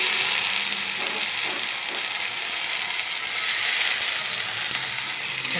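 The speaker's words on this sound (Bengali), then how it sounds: "চলো এটা আরেকটু কষি ভালো করে" Bhetki fish bones and spices sautéed in a pan with coriander leaves: a loud, steady, close frying hiss and sizzle that runs throughout, with a few faint sharp pops and no talking.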